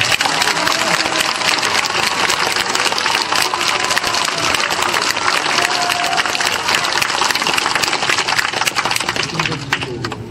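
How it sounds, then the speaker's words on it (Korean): Audience applause at a welcome address during a party leader's visit to a provincial Confucian school foundation event in Andong, steady and dense clapping filling the hall for about ten seconds before easing slightly. "박수 한번 보내주세요."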